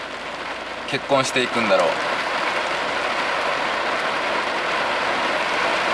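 Steady rain drums on a parked car during a typhoon, a dense, even hiss that fills the whole stretch, with someone briefly talking near the start.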